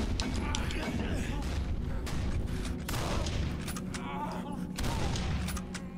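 Dense bursts of gunfire ring out in the horror video game Condemned: Criminal Origins, rapid overlapping shots and booming impacts filling the whole stretch, loud and continuous.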